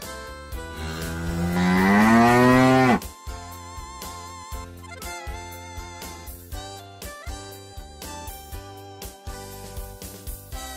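A cow gives one long, loud, close moo that rises and then cuts off, followed by a plinking music track.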